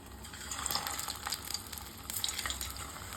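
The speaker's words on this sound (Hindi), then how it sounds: "अब बाकी बचे रोल को भी इसी तरीके से फ्राई कर लेंगे" Onion snack rolls deep-frying in oil in a kadai over a medium flame, a steady close crackling sizzle with bubbling surges that swell and ease throughout.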